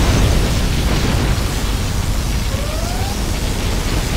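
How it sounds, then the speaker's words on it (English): A particle cannon strike in the video game C&C Generals roars as a sustained, dense blast of wide noise, loud and unbroken throughout, with a faint rising whine briefly laid over it. "Warning, particle cannon activated."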